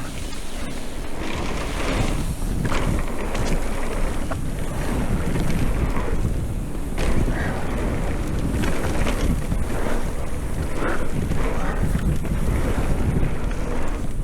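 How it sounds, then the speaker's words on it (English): Wind gusting outdoors near open water, a heavy steady roar buffeting the microphone with rushing wave and boat noise beneath, loud and continuous throughout, no talk. "A little bit breezy, not too bad."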